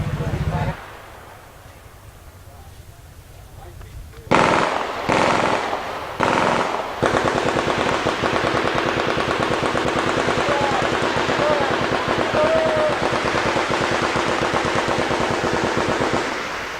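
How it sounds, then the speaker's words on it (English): Guns of various calibres and machine guns fire at a range shoot, loud sustained bursts of automatic fire after a few separate shots, continuing almost without pause. "all of these weapons that are shooting behind us of various calibers, high output"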